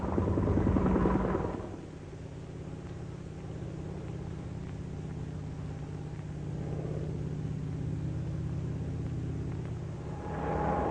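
A steady low engine rumble with a broadband whoosh, swelling at the start and end, like a military helicopter passing nearby.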